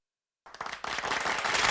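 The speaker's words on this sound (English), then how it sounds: "big round of applause for that" Studio audience applause starts abruptly after a short silence and quickly builds into steady, dense clapping that grows louder toward the end.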